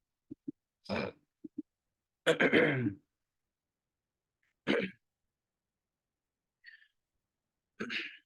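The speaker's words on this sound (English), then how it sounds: "Excuse me for the coughing" Several separate coughs and throat-clearing bursts, loud and close, spread out with silent gaps between them.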